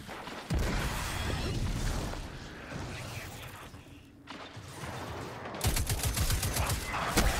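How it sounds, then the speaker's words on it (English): Gunfire and mechanical clatter in the Destiny 2 video game, a rapid burst of shots near the end over rumbling, creaking action sounds, loud and close with no talk. "That was just a warning shot."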